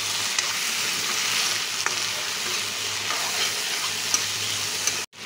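Chopped tomatoes frying in oil with onions in a pan, a steady close sizzle that runs unbroken, with occasional stirring scrapes and no talk.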